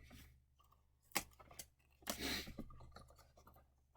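A scissors edge pushed and twisted through a small hole in a craft car body to widen it, giving a few sharp scraping snips and gritty scratches, close and quiet.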